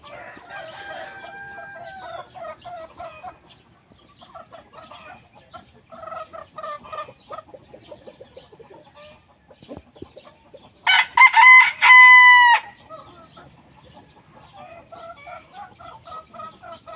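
A Phoenix rooster crows loudly and clearly once near the middle, surrounded by repeated clucks and soft calls from the flock before and after, with no talking.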